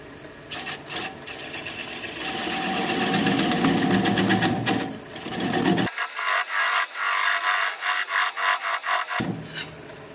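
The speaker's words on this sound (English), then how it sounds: "Now I'm going to take a 3/8 inch swept-back gouge to work on this tenon." A 3/8 inch swept-back gouge cuts the tenon of a wooden bowl spinning on a lathe, giving a loud, close, continuous scraping hiss that later breaks into quick rhythmic strokes.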